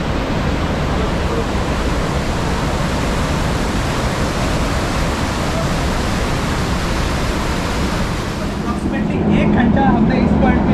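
Dhuandhar waterfall on the Narmada river at Bhedaghat, Jabalpur, roars as a dense, steady rush of water that fills the whole clip, loud and unbroken from start to finish.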